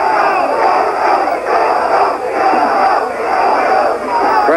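At a middleweight title boxing match, the arena crowd shouts and roars in loud, rolling waves that swell and dip, sounding displeased with the bout.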